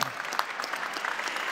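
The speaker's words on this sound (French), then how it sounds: "Applaudir." Applause from an audience at an alumni engagement talk, steady dense clapping throughout, fairly close and even in level with no voices over it.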